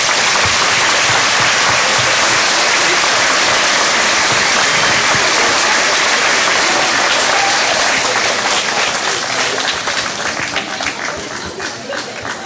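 Sustained, dense applause from an audience of children, teachers and parents at a school certificate (CEB) proclamation ceremony, loud and steady for about ten seconds before gradually thinning toward the end.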